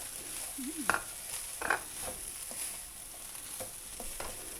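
Shredded cabbage sizzles and fries in a pan, with soft stirring scrapes and clatters breaking through the steady crackle.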